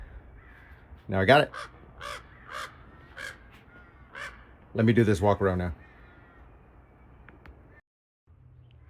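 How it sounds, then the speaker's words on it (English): A murder of crows caws loudly in repeated bursts nearby outdoors, the harsh calls clustering in two strong volleys while someone speaks over and between them. "we're getting started with the crows in the background"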